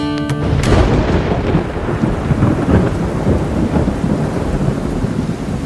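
Steady rain pours down while a deep roll of thunder rumbles, loud at first and then lingering under the hiss of falling water.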